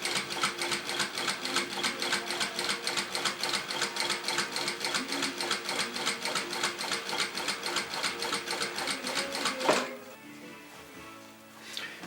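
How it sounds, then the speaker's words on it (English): A sewing machine stitches a long straight seam down the side of a car seat cover for a Scimitar, a loud rhythmic needle chatter running evenly for about ten seconds before stopping with a clunk into quieter handling noise. "now I'll just do the straight seam all the way down the side."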